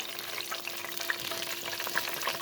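Onions sizzle in hot oil for mutton biryani, a close, steady crackling fry with scattered pops and no talking.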